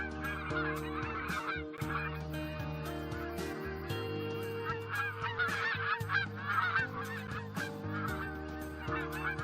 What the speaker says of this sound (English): high above, Canada geese fly north to mate.